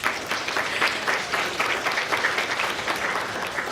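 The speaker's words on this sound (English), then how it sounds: "that deserves a big applause too" An audience at a university honor society ceremony claps in a sustained round of applause, dense and even, with faint pulses from individual hands throughout.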